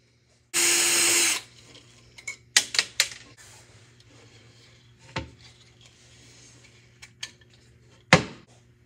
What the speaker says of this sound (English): So what I'm gonna do is remove the 2 screws on each side here, one here and one over here, and remove that ribbon cable and pop that out.